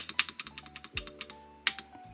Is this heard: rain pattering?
no